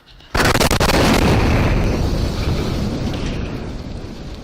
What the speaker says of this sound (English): just had an explosion